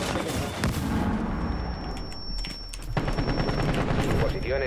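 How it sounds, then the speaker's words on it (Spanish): Finka's machine gun in Rainbow Six Siege fires in rapid sustained bursts, loud and close, with a brief pause before the automatic fire resumes. "Es que con esta ametralladora de finca."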